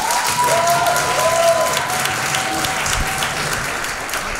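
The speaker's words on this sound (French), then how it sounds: "Un tonnerre d'applaudissements s'il vous plaît." A stand-up comedy audience gives loud, sustained applause to welcome the comedian Perceval, dense clapping with a few faint whistles that keeps going throughout.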